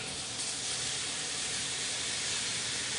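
Butter sizzles steadily in a hot cast iron skillet ahead of fatty steak pieces, a continuous close hiss that holds even throughout with no talking.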